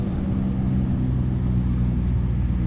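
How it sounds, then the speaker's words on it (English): Road traffic passes near a wooded hillside metal-detecting site, a steady low rumble with no speech throughout. "I apologize for any traffic noise."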